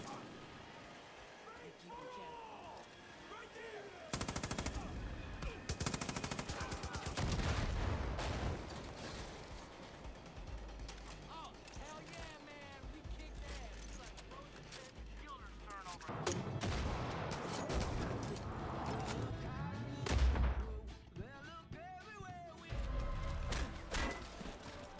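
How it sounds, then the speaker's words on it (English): Heavy automatic gunfire from an M249 machine gun in the video game Far Cry 5, loud dense bursts of shots and impacts that run through most of the stretch, with someone talking over them. "A quick burst from the M249 will shred everything in your path."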